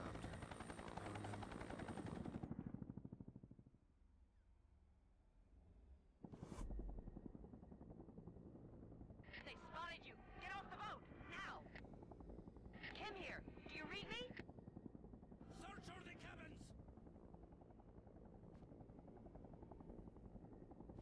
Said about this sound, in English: Uh-oh, here comes a helicopter.